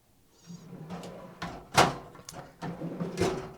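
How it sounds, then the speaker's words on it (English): The drawers of a Menards Tool Shop 26-inch four-drawer tool chest slide open and shut in a series of close, quiet runs and soft thunks, with no talk. "I do like the drawers do slide well"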